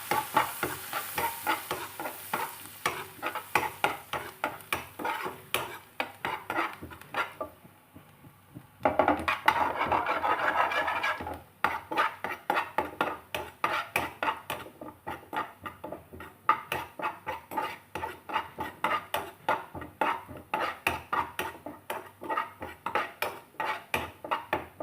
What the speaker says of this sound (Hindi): और उसी के साथ डाल देंगे थोड़ी सी कड़ी पत्ता।